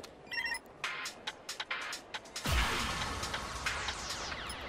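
A cartoon mobile phone rings in a quick electronic pattern, followed by a loud whoosh and bright, busy effects, with no talk.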